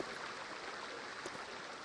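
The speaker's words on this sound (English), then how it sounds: "Now you can hear that running water." Water runs in a steady, soft trickling stream inside the survival game 7 Days To Die, a faint continuous wash with no voices.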